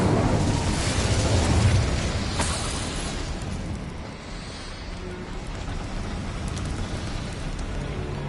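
An Incendio fire spell in Hogwarts Legacy roars as a loud, broad burst of flame-like rushing noise that swells early and then fades into a steady crackling hiss.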